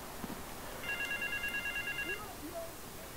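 A telephone rings inside the video game GTA 3, a repeating electronic trill that sits in the background for a couple of seconds over ambient game noise.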